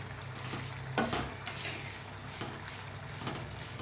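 Mango juice semolina sheera being stirred in a pan, a steady soft scraping with a faint sizzle throughout and a sharper clink of the spoon near the middle, with no one talking.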